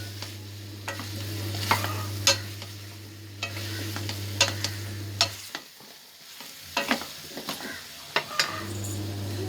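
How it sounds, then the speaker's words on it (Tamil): Garlic curry with drumsticks sautéing in a pan, a low steady sizzle broken by repeated sharp scrapes and clinks of a spoon stirring, close by, with a short quieter gap near the middle and no speech. "அப்படியே வதங்கட்டும்"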